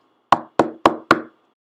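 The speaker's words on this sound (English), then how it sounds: "I rode my bike to his house and knocked on the door." Four sharp knocks on a door, evenly spaced, close and loud, each with a short hollow ring and no other sound around them.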